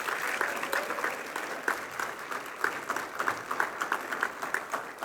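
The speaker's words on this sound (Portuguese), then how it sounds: "Vamos aplaudir o Senhor" A church congregation applauds during worship, a steady wash of many hands clapping at moderate distance, continuous and fairly even with small swells throughout.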